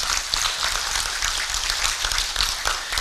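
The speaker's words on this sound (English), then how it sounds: "I'm persuaded Waziri deserves a bigger round of applause." An audience at a universal health coverage event breaks into loud, dense applause, sustained clapping that fills the room evenly for a few seconds with no speech.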